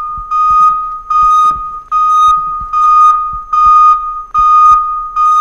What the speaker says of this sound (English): I'm not even cooking and the fire alarm's going off